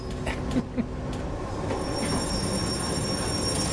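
Japanese rail simulator game train braking, a steady rail rumble with thin high-pitched brake squeal tones, a few short clanks near the start.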